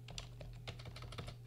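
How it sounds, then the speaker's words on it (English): Quiet, rapid keystrokes on a computer keyboard, a short burst of irregular clicks entering a name into a search field, heard close and alone over a low steady hum. "start typing my name"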